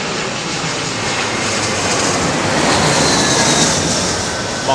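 An airliner landing at London Heathrow Airport makes a loud, continuous engine roar that builds slightly toward the middle, close and sustained, with no talk over it.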